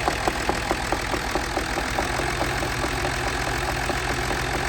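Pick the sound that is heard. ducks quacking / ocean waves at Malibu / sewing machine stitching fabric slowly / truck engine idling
truck engine idling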